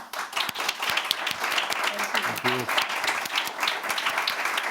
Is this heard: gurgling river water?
no